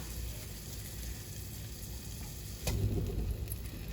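Ground beef fries in a pan with a steady sizzle, with a louder burst of crackling and stirring as more meat is added partway through.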